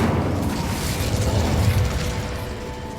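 A fire spell is cast in the wizarding video game Hogwarts Legacy, heard as a dense, roaring burst of crackling flame with pops and rumbling booms that holds steady for a few seconds, with no talk.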